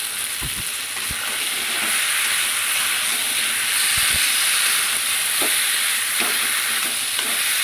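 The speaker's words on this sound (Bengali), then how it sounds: "এবার কাঁচা লঙ্কা চেরা আর একটা টমেটো কুচি দিয়ে দিলাম। ভালো করে একটু কষিয়ে নেব।" Slit green chillies and chopped tomato fry with a koi fish and cauliflower curry, a steady loud sizzle and hiss with occasional sharp knocks of a spoon stirring the pan, close up.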